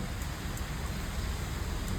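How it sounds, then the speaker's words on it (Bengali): Rain spraying down outdoors, a dense, even hiss of drops on surfaces held at a steady, fairly loud level for two seconds, with no voices. "চলো বৃষ্টি ছাট লাগছে ওখানে"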